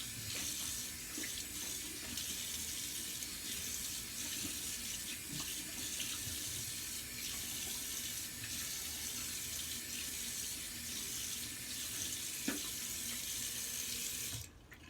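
Tap water runs steadily into a sink while alum is rinsed off after a shave, a continuous close splash with no talk.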